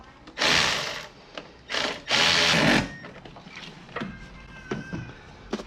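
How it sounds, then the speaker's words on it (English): Power tool tightening a small 10mm bolt on a Honda Civic automatic transmission, a few short whirring bursts of buzzing motor noise separated by pauses, with faint clicks and clanks of tools in between. "There's a little 10mm bolt back here that we gotta tighten back up."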